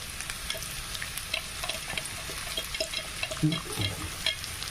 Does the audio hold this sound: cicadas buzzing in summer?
no